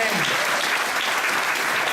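Congregation in a Spanish-language church service applauds steadily, a dense, loud wash of clapping filling the whole stretch, with voices mixed in.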